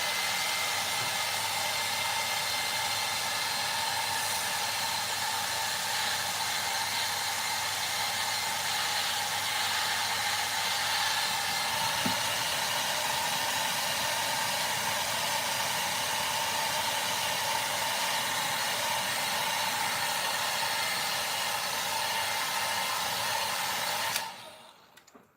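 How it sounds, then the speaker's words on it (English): A hair dryer blows steadily and loudly at close range, a constant whooshing whir that continues without a break before cutting off abruptly at the end. "Now I'm going to get the hairdryer on again, so a little bit of a noise for a second"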